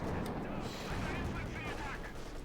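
A field gun fires in a Company of Heroes 2 battle, with loud, dense booms and rumbling gunfire over a noisy wartime soundscape.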